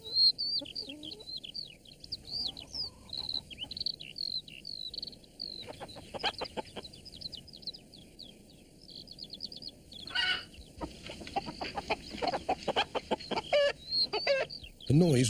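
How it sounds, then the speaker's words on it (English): Hens cluck in a busy, overlapping chorus in an animated children's show while small birds chirp steadily above them, with a brief louder squawk partway through. "But Mrs. Thompson's hens were wide awake"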